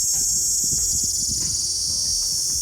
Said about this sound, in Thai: น้ำหวานน่าจะเยอะนะครับเพิ่งตอมเต็มเลยพวกแมลงพู้